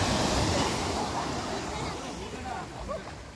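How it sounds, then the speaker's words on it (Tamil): Sea waves roll and wash onto a beach in Pondicherry, a broad rushing surf mixed with wind noise, steady and fairly close, with voices faintly present. "இது இந்த கடல்"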